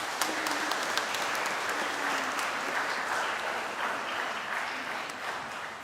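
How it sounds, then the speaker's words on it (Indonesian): A church congregation applauds during a Sunday Easter Mass, steady dense clapping filling the space at moderate volume, continuous and gradually easing toward the end with no talk over it. "Kita beri tepuk tangan untuk mereka."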